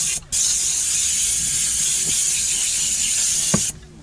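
A detailing steamer blasts a steady, loud jet of hissing steam into car seat cracks, running continuously for several seconds before cutting off, with a faint knock near the end.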